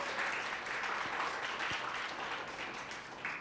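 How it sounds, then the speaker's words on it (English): An audience at a women's leadership panel event applauds: steady, dense clapping from a crowd, fairly soft and continuous for a few seconds. "A round of applause for Jessica, please."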